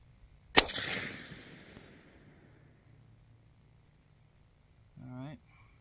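A single sharp gunshot from a CVA Scout V2 pistol chambered in 300 Blackout, fired outdoors, cracks loudly and trails off in a short echoing decay, followed by a few seconds of quiet and then a brief spoken voice.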